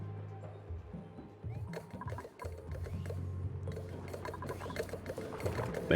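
Water pouring and gurgling through a base in the colony-building game Oxygen Not Included, a steady splashing flow with low hum underneath, fairly close and continuous.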